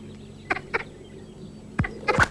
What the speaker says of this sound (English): So 2 clucks means lope